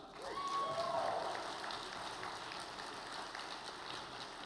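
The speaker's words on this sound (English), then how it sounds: "Yeah, you could clap for that." Scattered clapping from a keynote audience at Netroots Nation 2024, fairly faint and diffuse, with a brief whistle near the start and a murmur of crowd noise underneath.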